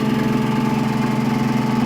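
Electric motor on a new bearing, speed raised with a variac, for a bowling-ball-shaped RegenX coil setup; a loud, steady hum with a fine rapid buzz, running evenly throughout and close up.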